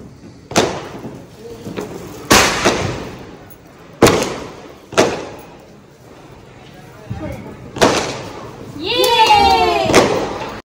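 Diwali firecrackers go off in a series of sharp, loud bangs at irregular intervals, with voices and a child's high call near the end.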